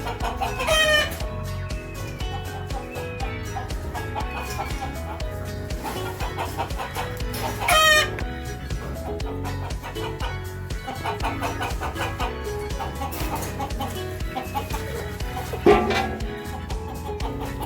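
Hens on a Konkan farm clucking steadily throughout, with a few louder cackles and crowing bursts standing out over the flock's background chatter.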